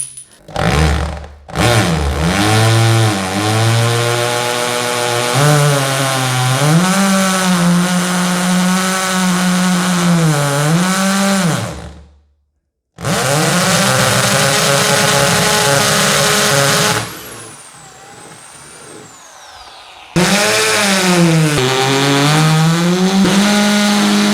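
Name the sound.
drilling four holes for Benelli TRK 502 X topbox mount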